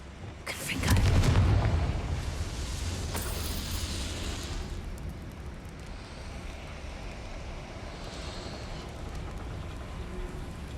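A Confringo blasting curse goes off with a loud, deep boom near the start, followed by a long rumbling roar that slowly fades under a steady background din in the Hogwarts Legacy video game.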